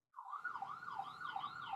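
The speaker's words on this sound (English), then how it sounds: "Only in New York do I hear sirens in the background." An emergency vehicle siren in New York starts suddenly and wails up and down in a fast, regular cycle at moderate loudness.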